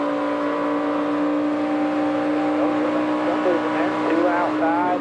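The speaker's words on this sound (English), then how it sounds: "Now we ride with Dale Earnhardt Jr." Onboard ride in Dale Earnhardt Jr.'s NASCAR stock car at Daytona during the 2011 Coke Zero 400, a loud steady engine drone at full throttle with pitch rising and wavering as the car shifts lanes, continuous throughout.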